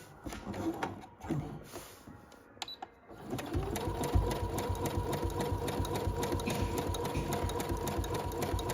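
A Brother sewing machine does double-needle embroidery. A few seconds of handling and clicks come first, then fast, even, close mechanical stitching runs without pause to the end.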